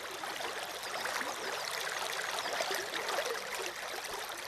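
A Japanese mountain stream flows continuously, its bright, even rushing and trickling water holding steady throughout at a moderate distance, with no voices.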